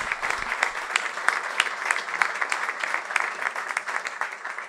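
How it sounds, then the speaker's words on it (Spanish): An auditorium audience at a political and judicial forum claps at moderate distance, a crisp uneven patter of many hands holding steady for several seconds without voices. "Un aplauso para él."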